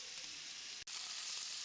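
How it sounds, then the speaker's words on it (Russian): Pork fat trimmings fry into cracklings in a dry pan, giving a steady, dense sizzle with a brief dropout midway and no talking. "обрезков сала поджарить на сухой сковороде, пока шкварки не станут хорошего зажаренного цвета"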